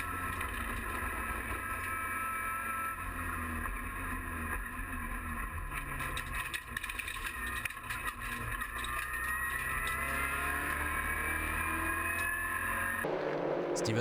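A Peugeot RCZ Racing Cup car's engine drones steadily from onboard on the 4.185 km Bugatti circuit at Le Mans, a loud sustained roar with shifting pitch and wind rush, cutting off abruptly near the end.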